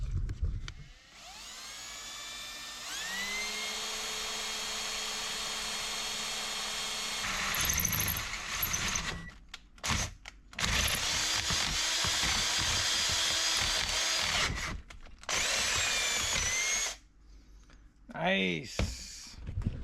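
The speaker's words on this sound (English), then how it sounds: "pull this pedal out, drill a new hole" A power drill whines loudly and steadily while drilling a new hole in the brake pedal of a 1969 Plymouth Fury III, its motor pitch rising as it spins up, then cutting out and restarting in short bursts near the end.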